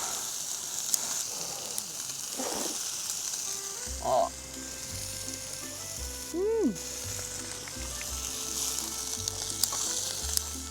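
Food sizzling in a pan while cooking outdoors beside a valley stream, a steady frying hiss throughout with a couple of brief louder whistle-like tones midway.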